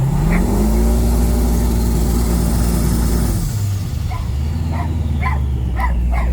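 A dog barks repeatedly near a loud, steadily droning car engine with an LS setup, MSD two-step and trans brake, the engine revving and dropping pitch partway through before the sharp barks cluster toward the end.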